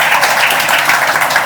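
Steady, dense applause from an audience at an institute talk welcoming a guest, filling the short stretch loudly and evenly with no talk over it.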